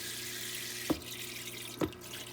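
Water sprays steadily from the shower head of a Likein foot spa, a continuous hiss with two sharp clicks breaking through.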